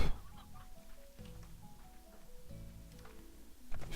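Chickens in the video game Slime Rancher make soft, repeated clucking calls in short bursts over a quiet background, fairly faint and close.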